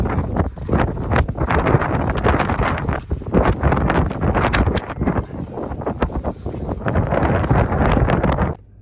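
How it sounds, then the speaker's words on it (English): Strong wind gusts roar and buffet the microphone continuously outside a Walmart parking lot by EV chargers, loud and close throughout with no talk. "Man, it's so windy."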